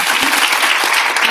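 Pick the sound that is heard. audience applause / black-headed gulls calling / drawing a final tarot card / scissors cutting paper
audience applause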